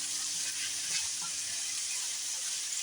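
Whole kernel corn with butter, salt, pepper and a little sugar frying in a pan, a steady bright sizzle that holds evenly from start to finish with no talking.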